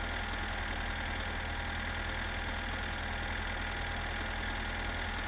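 A tractor engine idles steadily in My Summer Car, a continuous low chugging rumble with a fast even knock, close and alone throughout.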